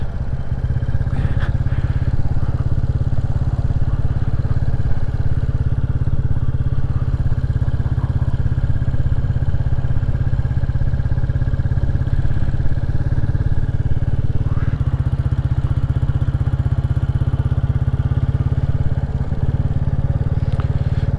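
Royal Enfield Classic 350 motorcycle being ridden down a quiet road in Powys, Wales, its single-cylinder engine thumping in a steady low, heavy drone close by for the whole stretch, with light clatter and no voices.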